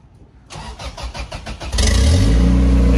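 A Honda EJ2 coupe with an LS VTEC engine cranks in the rain, with rapid rhythmic starter pulses for over a second before it catches. It then settles into a loud, rough idle close by, with no voices.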